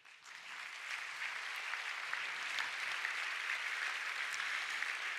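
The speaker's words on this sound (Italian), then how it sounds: "un benvenuto e un applauso per Silvia Cossettini" An audience at a regional business and economic awards ceremony applauds as honoree Silvia Cossettini is welcomed on stage. The clapping is steady and moderately distant, and it holds evenly throughout.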